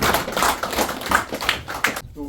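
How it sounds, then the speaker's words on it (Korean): Audience at a monk's book talk claps in a dense burst of hand claps that runs about two seconds and then stops abruptly, with a voice starting up just afterward. "박수 한번"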